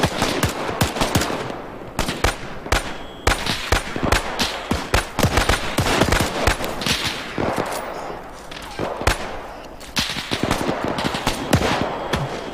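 MG42 machine gun in Arma 3 firing long rattling bursts of rapid gunfire, loud and close, with short pauses between volleys throughout.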